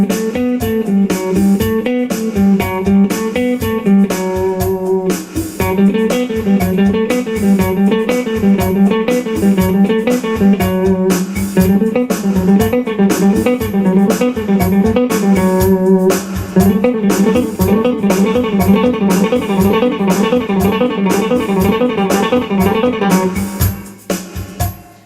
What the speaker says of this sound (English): I'll stick a little drum machine on and we'll demonstrate it at 120 beats a minute